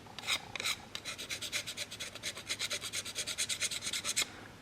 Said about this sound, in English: we are going to take 2000 grit out, and we are going to do some 2000 grit burr breaking